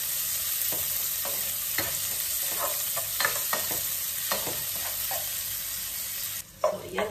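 Onions sautéing in a pan, a steady hiss of frying with repeated scraping stirs of a spatula, close and clear, ending in a louder sputter.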